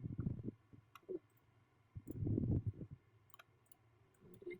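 Computer mouse clicks while working in a graphics program: several short, sharp clicks scattered through the clip, close and fairly faint.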